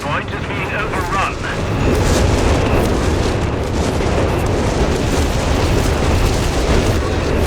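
A creeping artillery barrage in the World War II strategy game Company of Heroes 3 during a 4v4 battle, with heavy booms and rumbling blasts piling into a loud, continuous roar of explosions.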